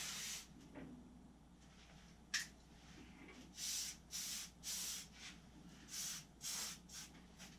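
Short bursts of WD-40 spray grease hiss onto the outdoor cables of a Briggs & Stratton lawn mower, quiet and close, in a series of separate pulses with light rubbing between them.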